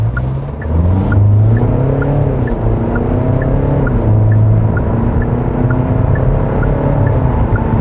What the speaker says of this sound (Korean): 간단하게 급가속도 한번 해보도록 하겠습니다. 드라이브 모드를 스포츠 모드에 두고